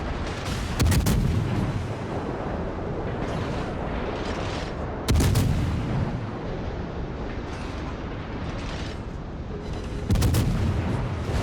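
In a naval warfare video game, the USS Worcester cruiser fires its main guns in three loud, heavy salvos spaced about five seconds apart, each booming blast fading into a dense roar of battle noise.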